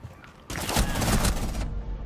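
A sudden burst of loud, rapid video game gunfire erupts after a quiet moment and keeps rattling for over a second before cutting off.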